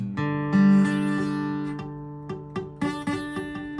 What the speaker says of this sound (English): You have dead strings, and you have to adjust your fingers in and out.